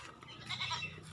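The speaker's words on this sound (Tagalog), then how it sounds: "meron pang dito, kambing." A goat bleating once outdoors after rain, a short wavering cry at moderate distance over quiet ambient noise.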